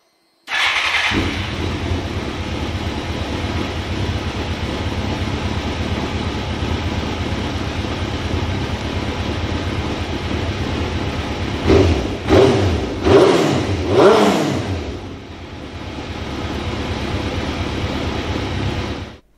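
Suzuki GSX-R four-cylinder motorcycle engine idling steadily during carburettor synchronisation, loud and close, with a few sharp throttle blips near the end before it settles back to a smooth idle; no talk.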